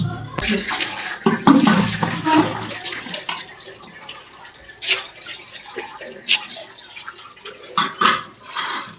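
Water pours and splashes into a pressure cooker pot for matar paneer masala, with clinks and a voice speaking briefly in the background.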